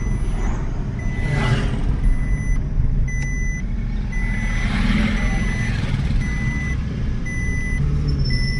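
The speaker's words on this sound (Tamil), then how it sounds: "வந்த மேனி தான் இப்படி ஒரு டிராஃபிக்கை பாருங்கள்" Heavy road traffic beside a crowded market in Anthiyur: a steady, loud rumble of trucks and vehicle engines with a repeating reversing beep, continuous throughout and without talk.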